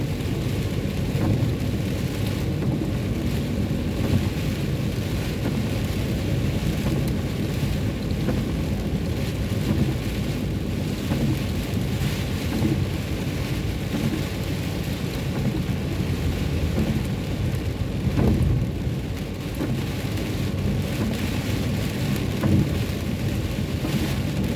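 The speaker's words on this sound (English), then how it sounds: "There's lots of rain." Heavy rain from a cold front sweeps past a seaside railway line in Cape Town, a steady, dense hiss and patter lasting throughout with low rumbling beneath and no voices.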